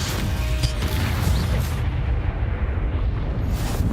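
Combat spells in the Hogwarts Legacy video game erupt in heavy booming blasts and crashing impacts, loud and continuous over the whole stretch with no voices.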